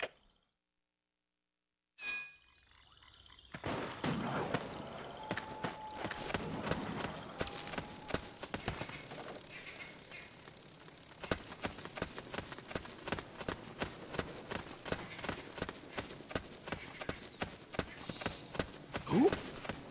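Footsteps in the video game Metal Gear Solid 4 start after a quiet opening and a few scattered clanks, then settle into a steady run of rhythmic thuds, fairly close and moderately loud.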